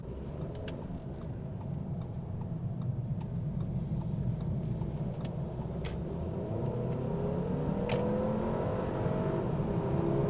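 A 2017 Audi A3 convertible with a 6-speed dual-clutch S-Tronic gearbox accelerates to highway speed, its engine drone and road rumble steady and close from the cabin, with no one talking.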